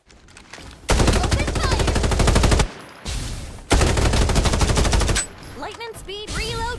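Gunfire in the battle game Farlight 84: two long loud bursts of rapid automatic fire with a brief gap between them, then short scattered shots and game sounds near the end.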